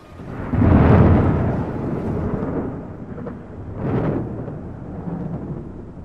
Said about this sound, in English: what sounds like thunder fills the air. Electricity crackles all around them